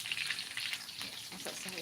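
Vegetables cooking in a pan, a chayote and long-bean dish in coconut milk, giving a continuous hissing sizzle with light stirring scrapes, moderately quiet and without talk.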